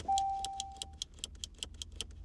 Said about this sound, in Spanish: tenemos 2 aireadores de un tamaño bastante grande que tienen un clic bastante satisfactorio